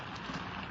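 Steady rain falls outside a front door as a radio-drama sound effect, a dense, even hiss of drops on a surface with no voices.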